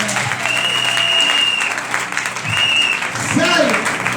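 A congregation applauds in a church, loud, steady clapping that fills the whole span, with a voice speaking over it near the end.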